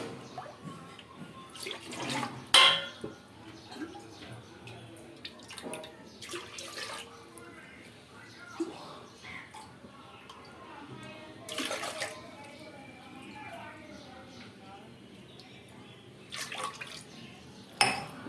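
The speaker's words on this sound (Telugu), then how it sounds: "ఒక గ్లాస్ నీళ్ళు పోసేసి నానబెడుతున్నాను అనమాట" A glass of water is poured onto rice flour and sago powder to soak them for beetroot, spinach and carrot vadiyalu. Short, faint splashes come in bursts between quiet stretches, and a voice speaks at times.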